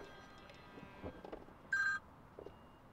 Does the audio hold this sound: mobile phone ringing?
yes